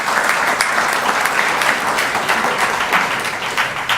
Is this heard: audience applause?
yes